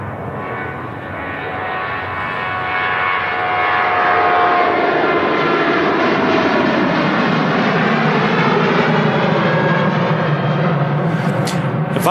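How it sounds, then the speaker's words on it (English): An Air Transat Airbus A321neo jet at Manchester Airport, its engine roar swelling from moderate to loud and holding as a broad sustained rumble and whine, with no voices. "picking out of the sky the beautiful Air Transat A321 Neo"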